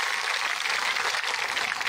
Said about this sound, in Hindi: एक बार जोरदार ताली अपने लिए बजा दीजिए